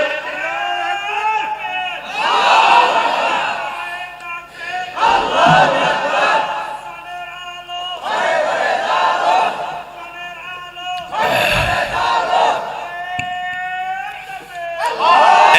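A crowd at a Bangladeshi BNP political gathering chants the takbir and political slogans in loud, massed call-and-response bursts that rise and fall about every three seconds.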